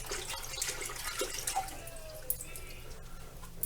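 Water runs and splashes softly, rinsing a vinegar-soaked carburetor being cleaned, a faint, steady faucet-like trickle with small drips and clinks.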